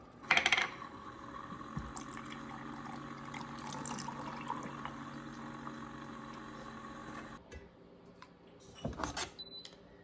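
A Maestri House milk frother whips cream on its high froth setting, giving a steady close whirring hum with a liquid churn that cuts off abruptly near the end.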